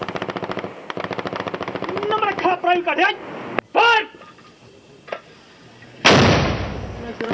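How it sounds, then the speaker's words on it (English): Machine-gun and mortar fire at the India–Pakistan border at night, with a rapid rattling burst near the start, scattered single shots, then a heavy booming blast near the end, mixed with voices. "A mortar launched into the pitch darkness, silencing the Pakistan offensive."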